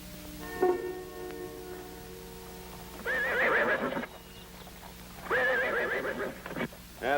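A horse whinnies loudly twice, close by, with a faint clip-clop of hooves early on and a steady low hum underneath; no one speaks.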